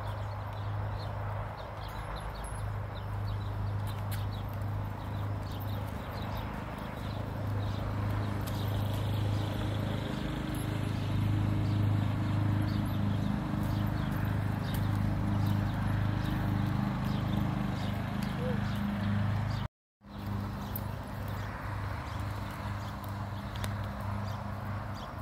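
Steady clip-clop of a pony's hooves as children ride it during training, a continuous close rhythmic stepping that runs throughout, briefly cutting out near the end.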